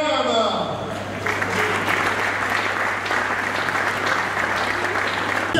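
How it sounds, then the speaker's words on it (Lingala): An audience at a gathering of comedians and artists applauds, a dense steady wash of clapping that fills the room and carries on throughout, with a voice briefly audible at the start. "je vous prie, mesdames et messieurs, d'en commencer par, encore une fois, vous applaudir vous-même"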